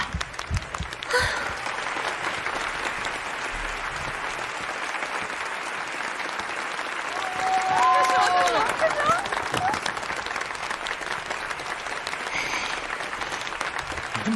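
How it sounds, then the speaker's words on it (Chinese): An audience in a hall applauds a first-year student coming up to sing, sustained crowd clapping that swells midway, with voices and a few cheers mixed in. "大家的掌声再热烈一点。"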